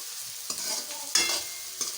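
Chopped onion frying in a pan for street-style pav bhaji, stirred several times, giving repeated scraping swishes over a soft sizzle, close and with no voices.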